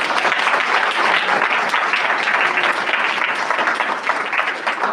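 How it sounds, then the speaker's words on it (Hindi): Church congregation clapping for God during a Hindi worship service, loud, dense and sustained applause from many hands, steady and close throughout with no voices standing out. "ताली बजाकर परमेश्वर"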